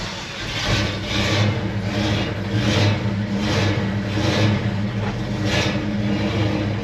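A Ford F100 pickup's engine runs steadily at close range, its low mid-frequency roar swelling and easing in a slow rhythm of repeated revs, loud and unbroken, with no talking over it.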